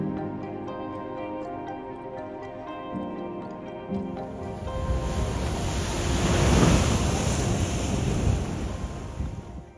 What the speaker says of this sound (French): avec la mer à proximité, les vagues qui cognent